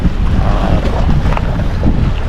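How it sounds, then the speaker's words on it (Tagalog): Strong gusty wind buffets the microphone with a constant low roar while lure fishing, with faint water and boat movement underneath. "Mahangin siya ngayon"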